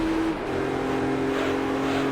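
In Gran Turismo 3, a race car fitted with a racing exhaust holds a steady, loud engine drone whose pitch shifts slightly as it revs, with no voices over it.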